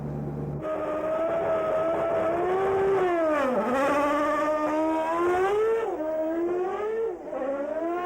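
A 1995 Sauber-Ford Formula One car on a practice start: a loud, close, high-pitched engine holds steady, then revs and dips through several throttle swells across the run, with no talking.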